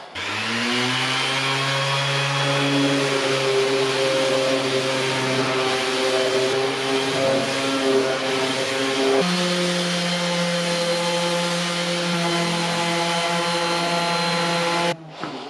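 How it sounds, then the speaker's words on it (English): A power sander with 80 grit sandpaper drones loudly and continuously on butcher block wood, close by, its motor pitch dropping slightly midway and cutting off abruptly near the end. "Now we gotta do a lot of sanding."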